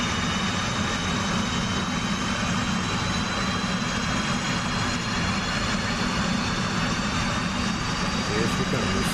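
A simulated F/A-18 jet engine spools up toward flight idle with a loud, steady whine and broad roar that hold continuously, with a voice faintly present.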